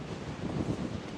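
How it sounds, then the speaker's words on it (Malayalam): Strong wind buffets the microphone at the Parunthumpara hilltop viewpoint in Idukki, a low rumbling gusty roar, near and steady, with no talking. "കാറ്റ് നോക്കിയേ, കാറ്റടിച്ച് പറന്നു നോക്കിയാ"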